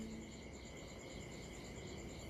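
Crickets chirp steadily on a calm afternoon with a light breeze, a faint continuous trilling over soft low ambient rumble, no voices present.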